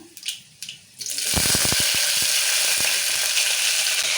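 Whole chillies dropped into hot oil already tempering cumin, mustard seeds and fenugreek: a few light taps, then a sudden loud, continuous sizzle with small popping crackles that holds steady to the end.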